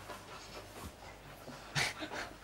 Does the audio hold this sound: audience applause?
no